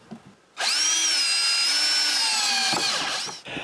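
A power drill drives a screw into a window frame being installed at a cabin, a brief spin-up followed by a loud, steady high whine for about two seconds, then winding down, with faint handling noises before and after.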